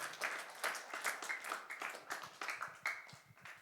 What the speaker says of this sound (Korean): 우리 하나님께 박수 한번 하겠습니다